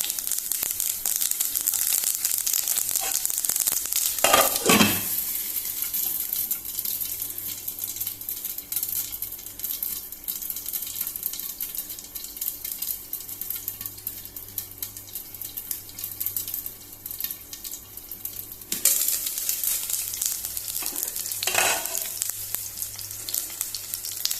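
Cumin seeds and green chillies hitting hot oil for a Goan ivy gourd bhaji, a loud, steady crackling sizzle with two sharper bursts as ingredients go in, no talk over it.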